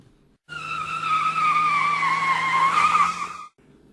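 A getaway car peels away with a loud, sustained tire squeal lasting about three seconds, a steady high screech over the engine's low hum, close and alone.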